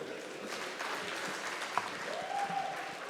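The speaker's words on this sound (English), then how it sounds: "Please give him a resounding round of applause." Audience applause at an investment summit hall in Nigeria, a steady wash of clapping across the room that holds level throughout, with a brief tone near the end.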